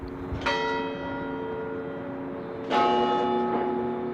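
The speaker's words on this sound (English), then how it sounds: "during our visit we were able to hear a few of the bells ring" Church tower bells of a campanile clock tower ring out in two clear strikes a couple of seconds apart, each with a long, rich humming decay, fairly close and resonant.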